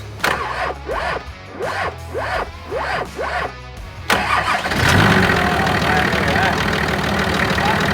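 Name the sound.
Nissan Patrol engine starting and running a little rough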